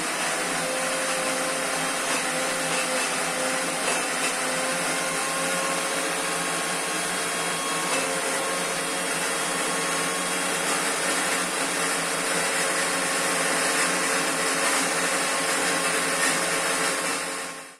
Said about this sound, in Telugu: వాటర్ తక్కువ పోసుకొని మిక్సీకి వేసుకోవాలి